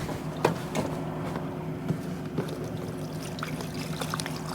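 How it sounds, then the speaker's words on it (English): Water pours steadily into the base of a self-watering seed-starting tray, a continuous soft splashing trickle with a few sharper splashes, close and fairly quiet, with no voices. "So you just pour water in the bottom of it."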